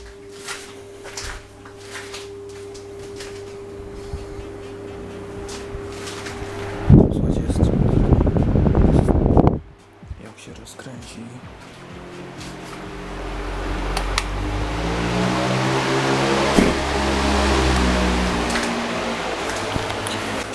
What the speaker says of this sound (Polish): To wiatrak taki głośny jest.